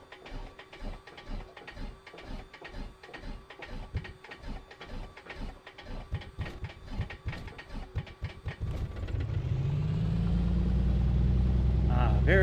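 A Piper Comanche's engine starts up in a flight simulator: steady mechanical clicking from the starter turns over for several seconds, then the engine catches into a loud, continuous drone that builds toward the end.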